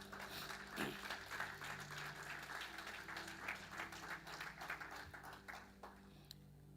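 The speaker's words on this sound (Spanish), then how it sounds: "Dale ese aplauso a Jesús." A church congregation applauds Jesus during a sermon, a steady wash of clapping with scattered louder claps, held at a fairly even level over a low droning hum before thinning out toward the end.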